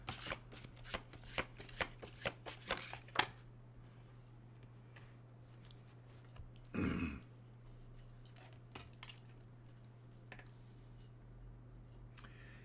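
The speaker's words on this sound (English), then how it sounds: "So, I shuffle the cards." Someone shuffles a deck of tarot cards at a reading: a quick run of crisp, close card snaps and riffles, then quieter handling with scattered soft clicks.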